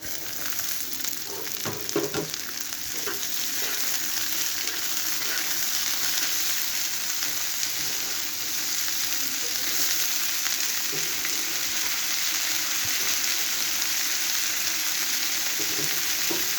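Dheki shak greens fry with browned onion in a pan, giving a steady close sizzle that runs unbroken throughout, with a few stirring clatters near the start.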